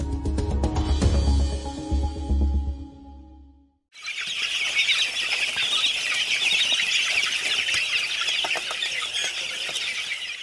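Broiler chickens in a poultry shed fill the air with dense clucking and chirping, a busy continuous flock chorus after a brief break in the sound.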